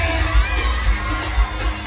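A live concert crowd at a grand show in Kigamboni cheers and shouts in a dense roar, with rhythmic low thumps of music beneath.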